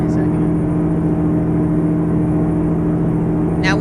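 A steady truck engine drone in the video game American Truck Simulator hums continuously at constant load, loud and close, with faint electronic beeps near the start and end.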